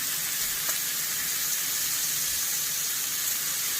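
Garlic frying in bacon fat, with the oil from a garlic press, gives a loud, even, close sizzle that crackles steadily throughout with no talking.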